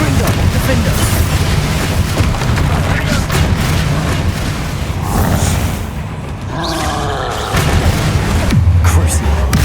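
Spell combat in Hogwarts Legacy, including the fiery Confringo blast, erupts in repeated loud booms and roaring bursts, with voices calling out over the dense, continuous din.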